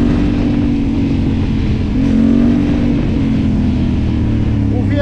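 A loud Yamaha Raptor ATV engine drones steadily up close, with a throaty exhaust rumble that swells briefly as it revs, a voice faintly audible beneath it.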